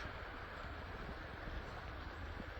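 Water flowing at the Max Creek crossing on a hiking trail in Shawnee National Forest, heard as a steady, full broadband rush with no breaks, fairly close and alone without talk.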